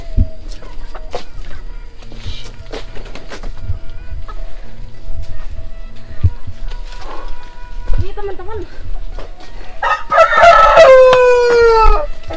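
A rooster crows loudly and close by near the end, in a rural forest setting where chicken is being roasted outdoors, with people talking and laughing throughout.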